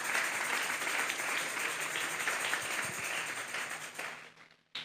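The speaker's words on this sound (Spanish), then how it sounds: "Vamos a darle un fuerte aplauso pues al Señor." Applause from a church youth service congregation, a dense patter of many hands clapping at moderate volume, fading toward the end.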